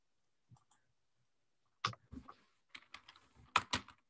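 Keys are typed on a computer keyboard to enter an email address, with sparse clicks at first, then a quick burst of close, sharp keystrokes in clusters.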